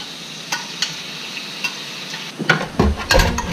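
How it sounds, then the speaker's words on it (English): Teriyaki-marinated rabbit meat sizzles in a stir-fry pan, a soft steady hiss broken by a few utensil taps, then louder clattering as the pieces are stirred and moved near the end. "we have our rabbit that we've marinated in teriyaki for an hour. We're gonna put it into the pan."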